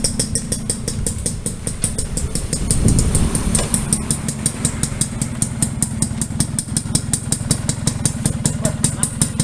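A restored, modified classic Yamaha V80 motorcycle idles close by with a quick, even two-stroke putter, briefly revving up near the start before settling back to a steady beat.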